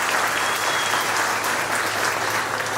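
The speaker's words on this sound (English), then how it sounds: "let's give them a round of applause." Sustained applause from an audience at a community awards ceremony, many hands clapping in a dense, even roar that stays loud and close throughout, with no speech.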